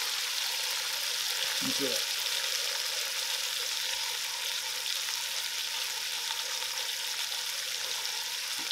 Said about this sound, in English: The bottoms will start browning up real nice, and you'll be able to tell because it'll break away from the bottom of our cast iron.